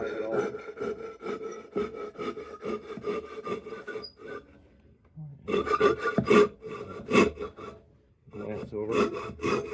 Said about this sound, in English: with a nice sharp saw, shouldn't take any time at all